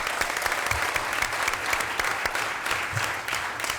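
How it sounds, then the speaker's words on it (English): Dense, steady applause from a council meeting audience celebrating a team's perfect season, continuous and fairly loud throughout with a broad wash of overlapping claps. "Let's give them one more round of applause"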